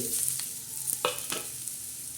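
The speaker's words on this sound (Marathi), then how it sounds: "आपण तेल तव्यावर ठेवलं आहोत तर आता बघा ही मिरची मी टाकते" Green chillies fry in oil on a hot griddle, giving a steady close sizzle with a few sharp scraping clicks from stirring, and no voices.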